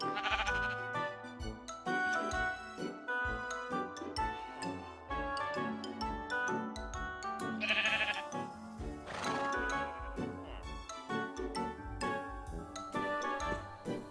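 Sheep in the Minecraft video game bleat repeatedly over a dense, busy backdrop of game music and clinking sounds, the bleats fairly loud and recurring throughout.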